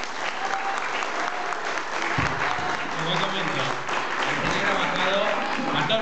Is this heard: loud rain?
no